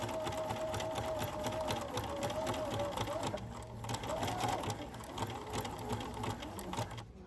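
A sewing machine stitches bra cup fabric, a close, steady rapid whir that runs continuously, dips briefly partway through and then resumes before stopping at the end.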